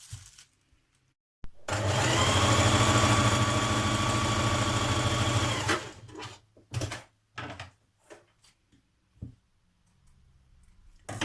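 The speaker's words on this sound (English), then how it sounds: "So you need to stitch your 2 pieces together first of all at this point" A sewing machine stitches two fabric belt pieces together for a summer dress, one steady close whirring burst of about four seconds, followed by scattered handling clicks and rustles.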